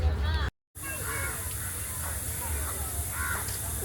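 A crow caws a few times at Katraj zoo, short hoarse calls rising over a continuous outdoor hubbub of people talking nearby, with a brief dropout near the start.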